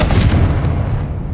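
A Confringo explosive spell cast in Hogwarts Legacy lands as a single loud, deep boom with a heavy low-end burst that decays over about a second.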